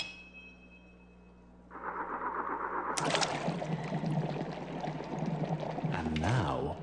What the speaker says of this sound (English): Next, we give the cymatic disc a good spin.